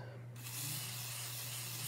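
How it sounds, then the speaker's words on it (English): A short, steady hiss of DeoxIT contact cleaner sprayed from a can onto a scrap of towel, close and continuous for nearly two seconds, over a faint low hum. "and I'll spray some deoxit"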